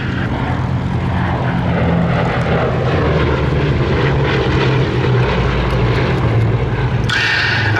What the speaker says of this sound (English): here's the last of our Mercury-engined aeroplanes running through solo now, the Bristol Blenheim